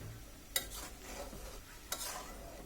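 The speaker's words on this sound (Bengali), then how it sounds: "আবার একটু নেড়ে দিচ্ছি" A pea curry (ghugni) is stirred in a pan, faint soft scraping and low simmering, with two sharp utensil knocks against the pot, quiet and close with no talk.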